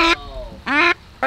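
Three loud, close duck quacks from a pet duck at a backyard garden pond, each harsh and nasal, separated by short pauses.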